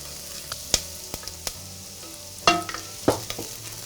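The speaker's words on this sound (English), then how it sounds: "we're deglazing and cooking down the ginger and garlic" Ginger and garlic cooking down in a pot during deglazing, a soft sizzle broken by several sharp utensil scrapes and clacks against the pot, close and intermittent.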